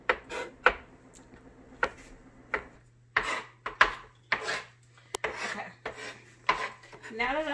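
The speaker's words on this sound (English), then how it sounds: "Now that I've got the pecans finely chopped" A knife chops pecans finely on a board, giving a series of sharp, uneven taps and scraping strokes at close range with brief pauses between bursts.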